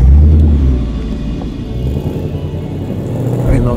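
A Ford Mustang Mach 1 heads out onto the Interlagos circuit with a heavy, steady engine rumble. There is a deep low burst at the start, and the drone stays loud and close inside the car throughout.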